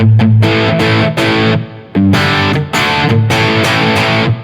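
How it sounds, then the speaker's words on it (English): Distorted electric guitar plays chunky repeated chords, loud and up close, with a spacious reverb tail from a PCM 70 rack unit washing behind each strum. "what I'm going to do is add the reverb from the PCM 70"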